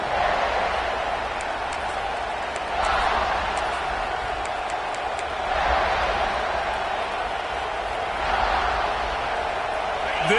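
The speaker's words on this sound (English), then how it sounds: "This crowd ready to make its presence known." A football stadium crowd roars in a sustained, loud wash of cheering and noise that swells in waves, with a commentator's voice under the din.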